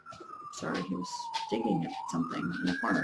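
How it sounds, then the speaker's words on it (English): A siren on a busy major street wails, sliding down then rising again in the distance, while a person talks over it close by. "Sorry about the sirens."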